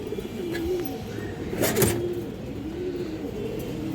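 Beji female pigeons coo in low, wavering phrases that run steadily through the background, with a brief louder burst of noise midway.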